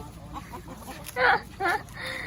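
A chicken, just caught after a chase in a forest setting, gives two loud squawking clucks close by, each about a quarter second long, over a low background hum.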